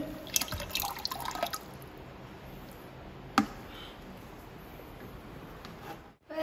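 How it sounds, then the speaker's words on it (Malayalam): Aquarium water drips and splashes as it is poured out, with a burst of pouring and trickling early on, then a quieter steady wash and a single sharp knock. "ബാക്കിയുള്ള വെള്ളങ്ങളൊക്കെ ഞങ്ങൾ പുറത്തേക്ക് ഇടും"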